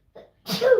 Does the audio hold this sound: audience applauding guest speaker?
no